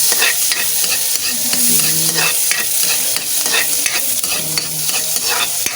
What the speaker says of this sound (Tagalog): Yan guys nilagyan ko siya ng mantika. Tapos, ilalagay ko na guys yung ano, onion.